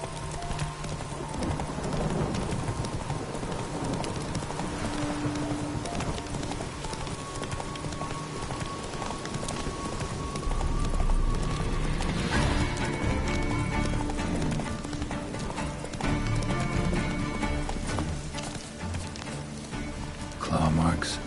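Hoofbeats of a horse galloping in The Witcher 3 drum in a fast, continuous rhythm under game ambience and music, with speech over parts of the ride.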